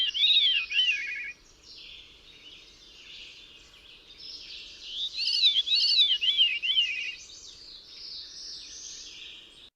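A veery sings its ethereal, two-toned song, the bird harmonizing with itself in spiralling, descending phrases. One phrase comes at the start and a louder one in the middle, clear and alone against a quiet background.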